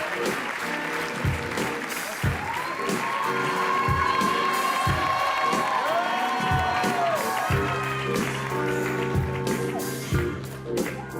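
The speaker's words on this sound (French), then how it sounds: "Applaudissements s'il vous plaît." A studio crowd gives a French stand-up comedian a warm welcome, with sustained clapping and a few whoops rising over light background music across the whole stretch.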